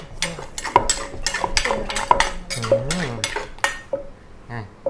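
Green papaya strands pounded in a mortar for Thai som tam with red ant eggs, a series of sharp knocks and clinks close by, some with brief ringing overtones, ending in a quieter pause.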